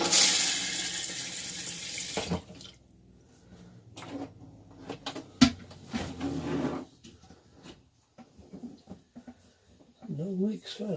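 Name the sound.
water turned on, flowing into repaired Thetford RV toilet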